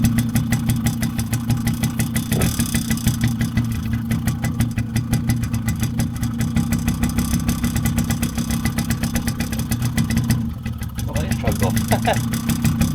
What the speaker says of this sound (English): Let it warm up a little bit and then take the choke off and see what happens.